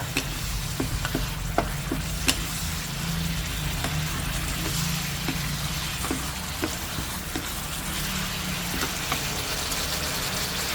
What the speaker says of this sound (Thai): ใส่น้อยพอแล้วก็ผัดถั่ว